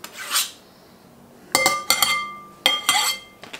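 Minced garlic is scraped and dumped from a utensil back into a bowl, producing a few sharp clinks and scraping rubs in separate bursts, close and clear with no talk.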